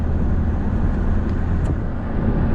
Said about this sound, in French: On accélère tranquillement.